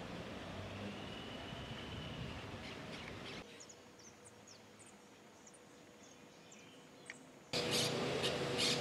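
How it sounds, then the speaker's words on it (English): Birds chirp and twitter at a distance among cypress and pine trees at the Jesuit Estancia Santa Catalina in Córdoba, Argentina, over a steady outdoor background hum, with brief sharper calls scattered throughout and a louder burst near the end. "Listen to the sound of the birds."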